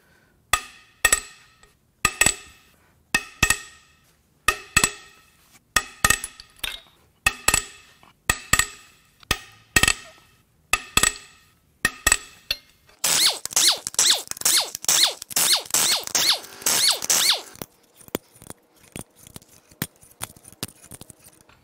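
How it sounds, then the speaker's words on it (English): Breaker bar working loose the head bolts on a Ford 5.4 three-valve V8 during teardown: a dozen sharp, evenly spaced metallic clicks and pops, then a dense, rapid ratcheting clatter, close and loud, easing to scattered clicks. "but we're still going to use it to pull the head bolts out."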